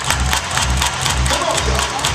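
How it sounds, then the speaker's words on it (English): A crowd at a baseball game claps their hands in a steady rhythm, the regular beats loud and close, with cheering and scattered voices underneath. "Everybody clap your hands"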